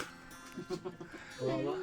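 A goat about to be slaughtered gives a short, quavering bleat near the end, faint under people talking close by.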